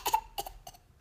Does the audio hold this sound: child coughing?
yes